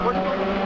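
A Honda Civic Si race car runs on the Interlagos circuit during a track day, its engine droning steadily for a brief moment under a person talking.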